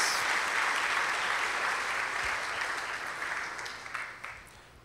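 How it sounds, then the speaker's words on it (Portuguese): Applause from an audience welcoming Laís and Thaís onstage, a steady dense wash of clapping that holds for several seconds and then slowly thins and fades. "Por favor, uma salva de palmas para essas duas aqui, a Laís e a Thaís."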